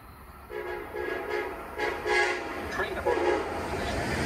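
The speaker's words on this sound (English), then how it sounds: "Train approaching. Please remain behind yellow line." An Amtrak passenger train approaches a station platform with repeated horn blasts over a steady rumble of rail noise, loud and close.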